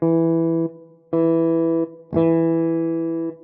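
A Shreddage 3 Argent virtual nine-string electric guitar plays three sustained notes in turn, each starting with a scratchy rake of extra attack noise before ringing cleanly and stopping, with no voices.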